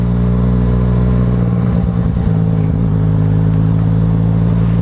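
A Yamaha MT-09 motorcycle with an aftermarket exhaust idles loud and close, its steady rumble briefly lifting with a couple of throttle blips before settling back.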